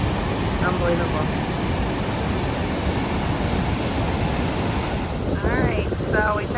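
Roaring Icelandic waterfall, a loud, steady broadband rush of falling water with wind buffeting close by, continuous throughout; voices join briefly near the end.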